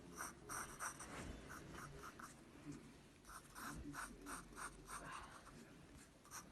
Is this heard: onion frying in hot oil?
no